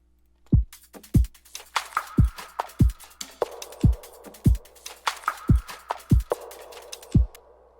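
A produced drum pattern with kick drums and rim shots plays, a steady, evenly spaced rhythm of punchy low hits layered with sharp clicky rim strikes and a light reverb tail.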